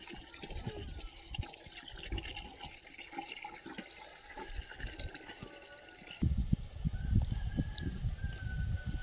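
Water poured and splashing while clay is mixed to build a village mud stove, a close trickling and sloshing that grows louder and busier partway through, with birds and distant fowl in the background.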